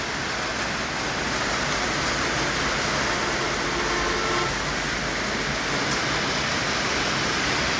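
Heavy monsoon downpour pounding down around a motorbike rider who has pulled over, a dense, steady roar of rain that stays loud and unbroken throughout, with no voices.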